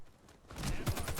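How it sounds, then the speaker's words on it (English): A machine gun in Warface opens up after a quiet start, firing a rapid run of moderately loud shots with a thumping low end that keeps going to the end. "I like the hip accuracy of the machine gun here"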